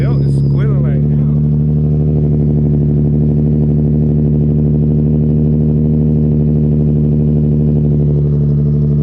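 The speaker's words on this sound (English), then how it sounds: "My damn belt is squealing right now." A drift car's engine idles loud and close with a steady droning hum and a thin whine from a squealing belt, holding constant throughout with no revving.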